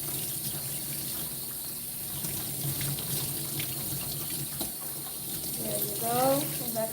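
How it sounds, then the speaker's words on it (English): Tap water runs steadily in a sink or tub while a dog gets a final rinse during grooming, a continuous broadband rush with a brief voice near the end. "So this is her last rinse, and we're going to get dry."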